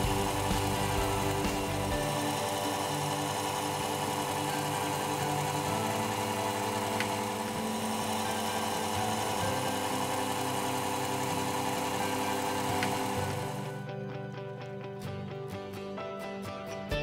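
A lathe turns brass clock collets held between centres, a steady low machine hum that runs on evenly throughout and drops slightly near the end.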